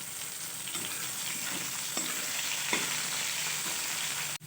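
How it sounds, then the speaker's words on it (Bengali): Potatoes frying in the leftover oil from frying rohu fish, giving a continuous loud sizzle with occasional scraping clicks of stirring, and no talking. "আমি ওই মাছের তেলটিতেই আলুগুলো ভেজে নিচ্ছি।"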